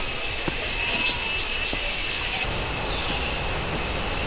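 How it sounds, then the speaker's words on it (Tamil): Roar of Abbey Falls waterfall in Coorg, a heavy continuous broadband rush that stays steady and loud, with a few faint knocks and a thin high tone near the start. "இப்போ அந்த ஃபால்ஸோட சவுண்ட் இன்னும் ஹெவியாக கேட்குது பார்த்தீங்களா."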